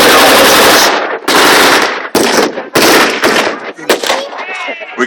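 A British light machine gun fires during a WW2 reenactment weekend at Dover Castle, with long loud rattling bursts broken by short pauses and then scattered single shots, close and dominant.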